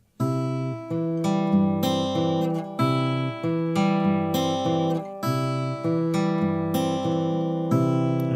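A guitar is fingerpicked in a repeating pattern, the thumb on bass notes and the fingers adding chords with occasional higher melody notes on top, clear and close with nothing else heard.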